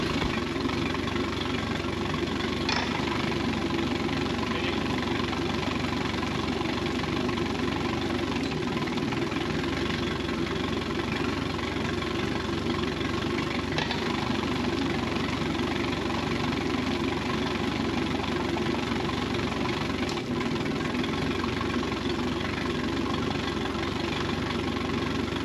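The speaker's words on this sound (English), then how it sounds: "What I'm going to do now is shift the engine into forward, and then neutral, and then reverse," A Mercury 115 four-stroke outboard motor idles steadily while shifted through forward, neutral and reverse, giving a constant low mechanical hum with a few faint clunks as the gears engage.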